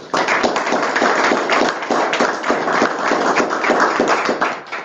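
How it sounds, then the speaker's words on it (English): An audience at a school board meeting applauds a district Teacher of the Year, many hands clapping in a dense, sustained round that carries on steadily for about five seconds. "So let's give her a round of applause."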